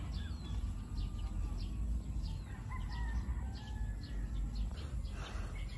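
A rooster crows repeatedly amid steady outdoor farmyard noise, with several overlapping calls from birds in a breeding yard, moderately distant and under constant background hum.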